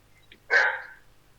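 A single sharp dog bark in the Arma video game, a short close burst that fades quickly over a quiet background.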